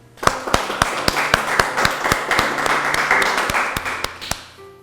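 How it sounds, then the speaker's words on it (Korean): An audience at an online worship service gives applause for True Mother, rendered as sharp separate claps in an uneven rhythm over a low hum, fading out near the end. "우리 모두 참 어머님께 감사의 박수를 보내주시기 바랍니다."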